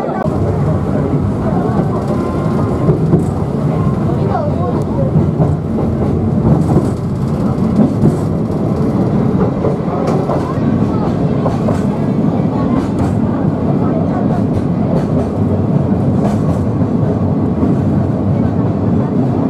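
A trolley sightseeing train runs along the old San'in Main Line beside the Hozu River, giving a steady, close rolling rumble and rattle of the carriages throughout, with faint talk beneath it.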